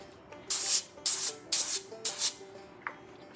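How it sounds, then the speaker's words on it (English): Avocado oil spray is misted over stuffed mushrooms in four short, close hissing bursts, each about a third of a second long, with a softer tap near the end. "We're gonna spray it down with"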